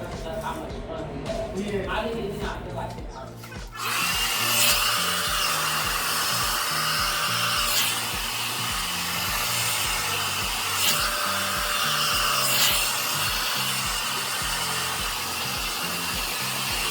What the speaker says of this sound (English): So now I'm about to sit under the dryer and diffuse the ends a bit.